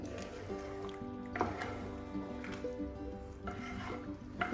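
Rice flour and jaggery batter is stirred in a pan with soft, repeated scraping strokes and gentle wet squishes. The sound is close but faint, and a low steady hum sits underneath.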